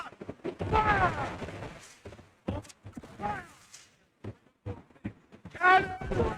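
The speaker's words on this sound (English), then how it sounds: "Cannon!" Heavy ship cannons fire in an Assassin's Creed IV naval battle, several loud booming blasts spaced across the span, mixed with shouted voices of the crew.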